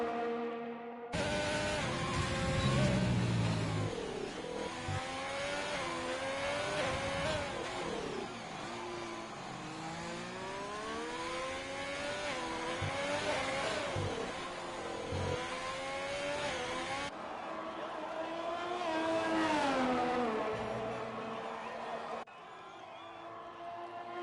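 F1 2020 race cars lap the track in a Mexico league race, engines revving up and down with shifting whines and gear changes, sweeping pitches layered together and loud throughout.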